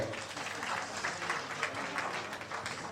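Guests at a sangeet ceremony clap together in a steady, moderately loud burst of applause, mixed with some murmured voices in the room.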